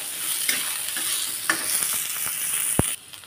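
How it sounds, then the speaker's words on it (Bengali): Onions sizzle and crackle in hot oil in a pan while a spoon stirs them, with irregular scraping knocks and one sharp clack near the end; the frying hiss stays steady and close, with no voices. "একটু পেঁয়াজগুলো ভাজা ভাজা হয়ে যাবে।"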